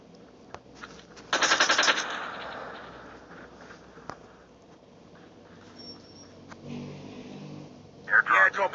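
Automatic gunfire in a Call of Duty battle royale match cracks out as one short, fairly close burst, followed by quieter ambient game sounds and scattered clicks.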